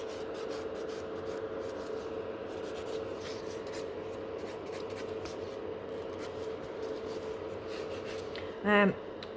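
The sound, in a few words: filing and shaping natural fingernails with a nail file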